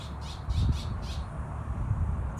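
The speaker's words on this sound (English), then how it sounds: "Y'all hear them birds confirming?" Several loud bird squawks come in quick succession near the start, then the calls thin out over a low rumbling background.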